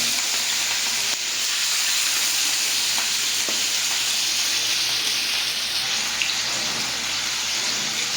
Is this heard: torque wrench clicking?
no